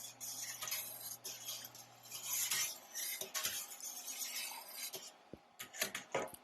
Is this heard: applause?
no